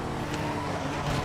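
A Ford GT American muscle car engine drones loudly and steadily in a racing video game, a close, continuous rumbling roar with small pitch wavers and no talk over it.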